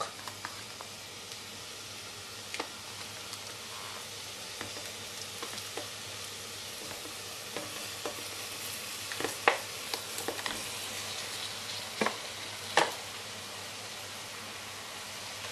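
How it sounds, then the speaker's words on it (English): Minced pork frying with leek in a pan on a stove: continuous moderate sizzling crackle, broken by sharp intermittent clicks and scrapes of a utensil stirring. "Then you add in your minced pork."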